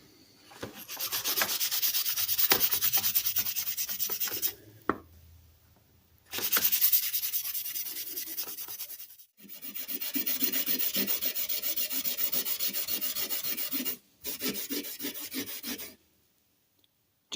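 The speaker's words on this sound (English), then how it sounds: "Just a red Scotch-Brite pad first." Red Scotch-Brite pad scrubbing vintage Millers Falls saw blades, fresh from an Evaporust soak, in close, steady abrasive strokes broken into several bursts with short pauses between.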